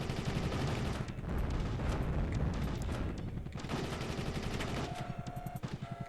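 Machine gun fire from a helicopter in the Soviet Strike game, with dense rapid bursts and booming explosions. The racket is loud and continuous with short gaps between volleys.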